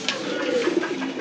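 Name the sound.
pigeons cooing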